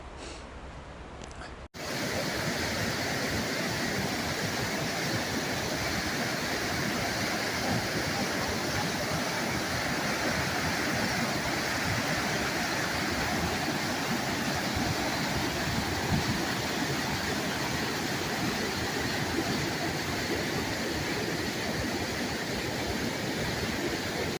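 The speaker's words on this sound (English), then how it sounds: "Water's crazy. It's very silty and glacial, so not the best fishing stream." A silty, glacially fed stream rushes steadily beside an Alaskan campground, a loud continuous broadband roar with no pauses after a brief quieter opening moment.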